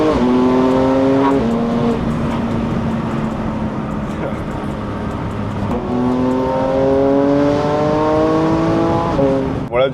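Porsche GT3 sports car engine driving close and loud, rising through gears with a shift near two seconds, settling into a steady drone, then accelerating again from about six seconds with climbing revs; a voice talks faintly underneath.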